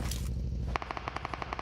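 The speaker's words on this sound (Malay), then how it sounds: "Ada tembakan daripada bahagian atas ketika ini" Automatic gunfire in a PUBG Mobile battle royale match, a rapid even string of loud shots starting partway through over steady background game noise.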